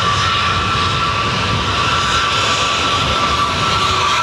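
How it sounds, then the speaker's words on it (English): Lufthansa Airbus A321 departing Dublin for Munich, its jet engines roaring loud and close in a steady, unbroken broadband rush for the whole stretch, with no voices over it. "Lufthansa 321 heading to Munich."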